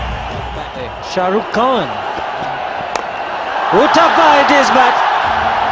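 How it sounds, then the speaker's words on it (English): A roaring cricket stadium crowd cheers a boundary in a 2007 T20 World Cup match between India and Australia, the broad noise swelling louder toward the end beneath an excited commentator. "This crowd is getting very vocal."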